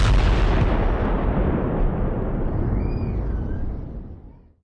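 A night IDF air strike on Hezbollah bases in Lebanon sets off a deep, heavy explosion roar that rumbles loudly, then slowly fades away with no voices.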